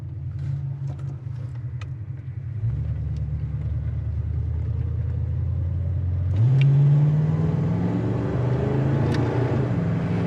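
A 1969 Mercury Cougar engine hums steadily, then drops and climbs again in pitch as it is shifted manually through the gears, with road rumble throughout.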